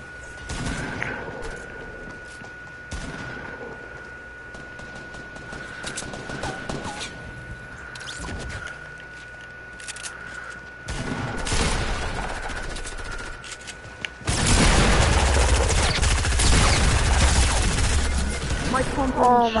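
SMG gunfire in a shooter video game: rapid bursts of shots, sparse at first and then a loud, dense volley near the end, with a player talking over parts of it.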